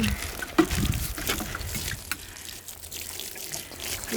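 Water splashes and trickles close by as garden plants are watered, uneven and gurgling like a pour from a hose or can, fading to a lighter stream.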